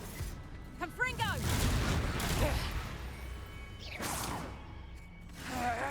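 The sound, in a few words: Confringo spell cast in Hogwarts Legacy video game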